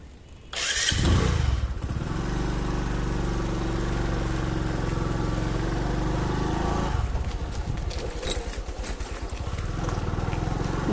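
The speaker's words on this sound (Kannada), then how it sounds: "ನಿಮಗೋಸ್ಕರ ಬೈಕ್ ರೈಡ್ ಕಲಿತು ಬೈಕ್ ರೈಡ್ ಮಾಡ್ತಾಯಿದ್ದೀನಿ ನಾನು." A motorcycle engine fires up with a sharp burst, then drones steadily and loudly throughout as the bike is ridden, with rising throttle near the end.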